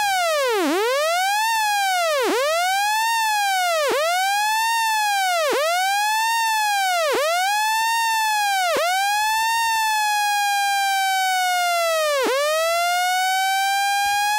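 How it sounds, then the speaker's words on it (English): An Arturia PolyBrute synthesizer LFO with a reshaped wave curve sweeps a tone repeatedly up and down in a steady cycle, dipping sharply at each trough like a siren, then settles into a smoother sustained pitch. "You can probably hear that we no longer have a sine wave."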